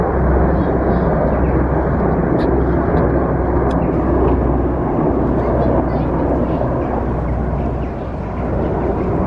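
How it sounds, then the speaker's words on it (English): Loud, steady roar of military helicopters flying overhead, a heavy low drone that holds unbroken for the whole stretch. "get some military helicopters up there"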